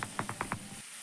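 Mixed vegetables with spices stirred in a pan, a quick series of about five scraping strokes over a faint sizzle, close and moderately quiet, then the sound trails off.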